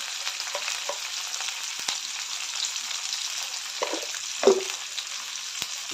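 Green peas roasting in a pan with tomato and salt, a soft continuous sizzle with a few light scrapes and clicks of stirring, no talking.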